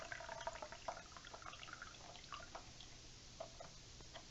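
Water drips and trickles while a water heater is drained during a pressure reducing valve replacement, with faint, irregular drips over a low steady hum, quiet and nearby.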